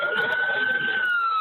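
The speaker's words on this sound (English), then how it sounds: "The call ends as sirens approach." An emergency siren wails steadily and fairly loud, holding a high sustained tone with a faint voice beneath it.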